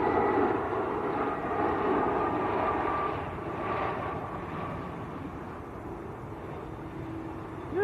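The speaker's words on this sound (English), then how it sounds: "A319 from Frankfurt of Lufthansa" A Lufthansa Airbus A319 in from Frankfurt passes at Manchester Airport, its engines a fairly loud, steady jet roar that eases slightly toward the end.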